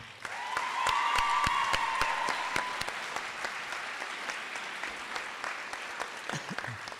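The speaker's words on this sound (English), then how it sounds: "please give a nice round of applause for Sarah Solinger, Christina Reeves, and Ja" Sustained applause from an audience at a high school senior awards ceremony, loud and steady at first, then gradually thinning out toward the end, with some whistling early on.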